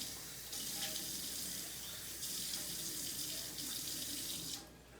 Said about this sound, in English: I'm going to rinse this with water.